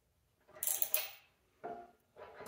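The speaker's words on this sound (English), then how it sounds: "And the socket's a 19mm. So, again, just want to make these snug." A 19mm socket on a ratchet snugging nylock nuts while assembling a Badland offroad jack: three short, close mechanical bursts of clicking and creaking metal, each separated by a brief pause.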